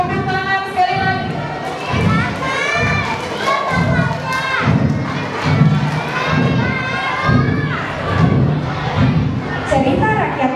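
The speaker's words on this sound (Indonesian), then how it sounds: "Baik, tepuk tangan sekali lagi." A class of students applauds and cheers after a school performance of a folk tale, with loud children's shouts and voices riding over rhythmic clapping and thumps throughout.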